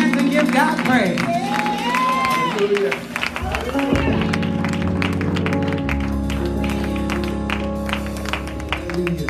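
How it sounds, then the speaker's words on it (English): A church congregation at a youth Sunday service claps along in a steady rhythm, with cheering and voices mixed in, while music with sustained tones plays underneath. "Clap your hands and give God praise."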